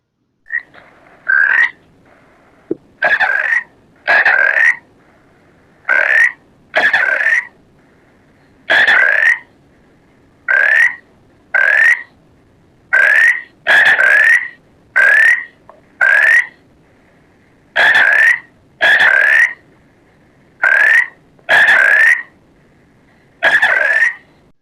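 Frogs croak loudly in quarrelling bursts, about twenty harsh, close calls in uneven succession with short silent gaps between them and no voices.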